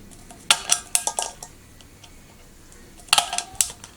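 Crocodile snips cutting through scrap tin cans, giving two bursts of sharp metallic clicks and crunching snips separated by a quiet pause, close and fairly loud with no talk.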